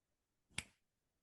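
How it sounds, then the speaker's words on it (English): A single crisp finger snap, close and isolated, sharp against near silence. "I got to snap my fingers"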